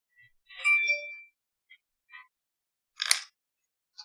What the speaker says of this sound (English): Turn off the phone because it keeps blaring at me.